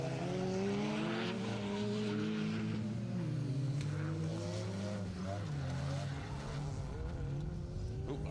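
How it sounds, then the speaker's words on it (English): A Citroen rally car spins on a circuit rally stage, engine roaring loudly with a long, shrill tyre squeal sweeping and wavering throughout, close and continuous. "The screeching of tyres."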